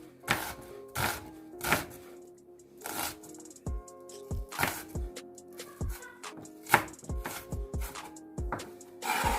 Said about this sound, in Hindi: पहले सबसे प्याज काट लेंगे, उसके बाद फिर हम टमाटर और सब्ज़ मिर्चें वो काट लेंगे।